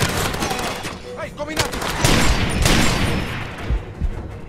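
A heavy machine gun fires in a Far Cry 2 scrapyard shootout, loud rapid bursts with sharp cracks and booming impacts over about four seconds, while players talk over the shooting.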